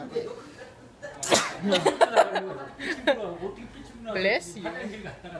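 A single sharp sneeze bursts out close by, followed by light chuckling and people talking nearby.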